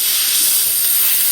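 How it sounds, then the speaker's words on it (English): Air compressor nozzle blowing super glue deep into a crack in hardwood, a loud continuous close hiss of air throughout. "I will take my air compressor and blow the glue"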